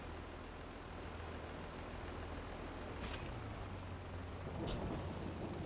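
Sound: rain in a logging video game

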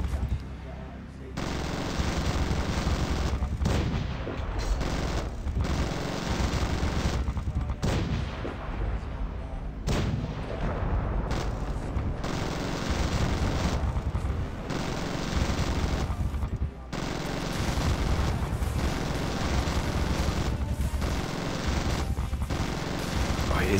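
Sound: gunship gunfire in Zombie Gunship Survival video game

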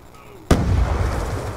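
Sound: grenade explosion and gunfire in video game Black Ops 2

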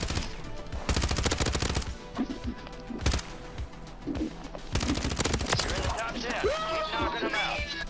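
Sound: gunshot in a video game

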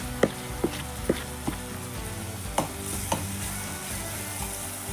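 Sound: turmeric frying with chicken masala

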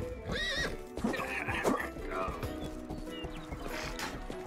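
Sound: horse neighing and galloping in video game Rustler

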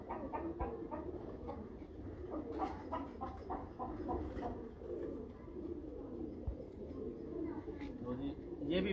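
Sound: pigeons cooing

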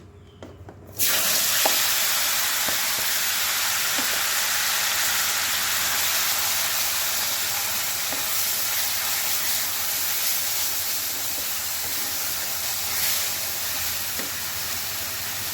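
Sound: frying ground onion, garlic and bitter gourd seeds in oil

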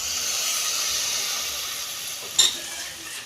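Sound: carrots cooking in milk for carrot halwa

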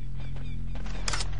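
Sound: sniper rifle shot in Turok 3 video game

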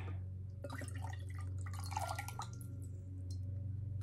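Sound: drink being poured out of a bottle

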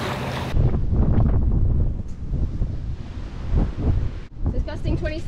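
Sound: strong gusty wind while sailing

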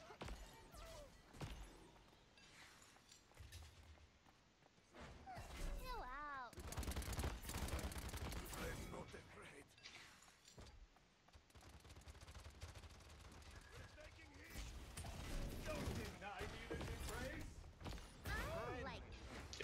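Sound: gunfire in the video game Paladins

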